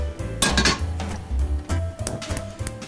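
Metal pots clank and clink sharply a few times, close up, as a cooking pot is set down and handled on a stovetop.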